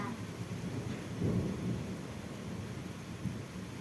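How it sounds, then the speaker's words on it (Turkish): Steady rain pours down with a low rumble of thunder swelling near the middle, a continuous wash of outdoor storm noise with no voices heard. "Tutma yağmur yağıyor."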